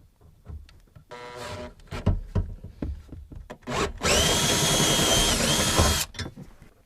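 A power drill bores a 3/8 inch hole while behind-the-seat MOLLE panels go into a third-generation Toyota Tacoma. Some handling clatter comes first, then a loud, steady two-second whine of drilling ends abruptly.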